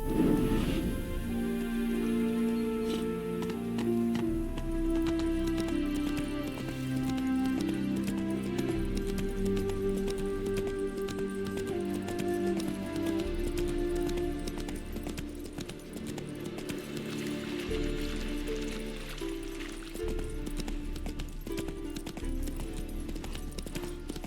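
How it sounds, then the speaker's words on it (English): Horse hooves clip-clopping steadily at a walking pace in The Witcher 3, the horse Roach plodding under a sustained musical score and ambient rain-like patter, loud and continuous throughout. "Spooking my horse. Roach doesn't like ghosts."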